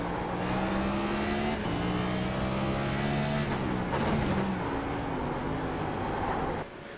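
A NextGen race car engine in the iRacing video game on the Chicago street circuit, revving loud and continuous, its pitch rising and falling as it shifts gears through corners, then cutting off sharply near the end.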